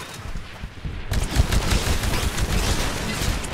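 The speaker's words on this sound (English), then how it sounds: "Destroy the Titan with your anti-Titan weapon." Anti-Titan weapon firing in the Titanfall video game, a sudden burst of loud, dense, rapid blasts that starts after a quiet moment and keeps rumbling for several seconds.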